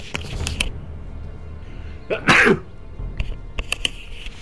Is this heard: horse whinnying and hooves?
no